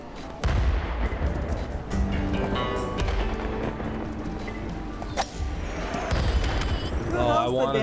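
Bombs explode in Golf With Your Friends: repeated booming blasts among other busy game effects throughout, loud and close, with talk over them.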